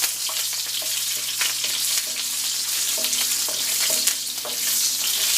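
Green chilies frying in hot oil for garnish crackle and sizzle steadily, with light stirring clicks and pops scattered over the continuous hiss.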